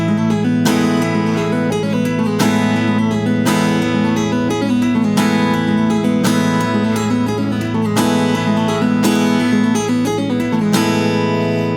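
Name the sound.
electric guitar math rock tapping riff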